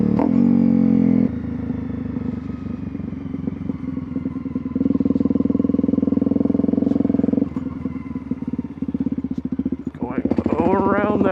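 Honda CRF250L motorcycle ridden around a parking lot, its engine droning steadily and rising in a louder stretch, with a person talking over it near the end.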